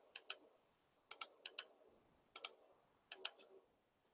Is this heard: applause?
no